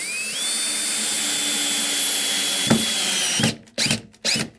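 A power drill drives screws into a 2x4 bird feeder post, with one long steady whine rising in pitch and holding close and loud, followed by three short bursts.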